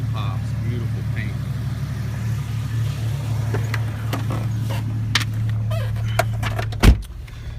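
A Jeep Cherokee engine idles steadily with a low, even hum, joined by scattered clicks and small interior knocks, and a louder thump near the end.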